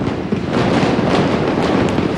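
Gunpowder fireworks exploding during the burning of the Plaza Ajuntament falla in Valencia, a loud, continuous crackling roar of dense blasts with no pauses.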